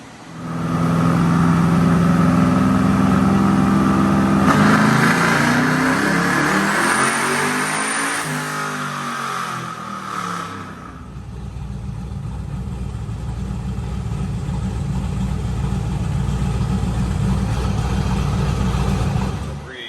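A Whipple-supercharged 6-liter LS7 V8 powering an air boat roars loudly and close, climbing hard through the revs, lifting off into a wavering drop, then settling into a heavy, steady drone.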